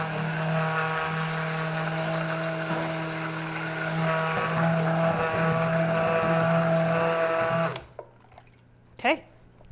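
A kitchen gadget, likely an immersion-style blender, whips quiche ingredients with a steady motor whir and a strong low hum for about eight seconds, then cuts off, followed by brief handling noises.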